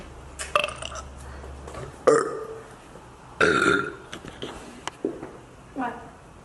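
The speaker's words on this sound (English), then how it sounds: "Everyone's fucking burping." Several friends burp loudly in turn, with a few long, raspy belches and shorter ones scattered across the stretch, mixed with laughter and chatter between them.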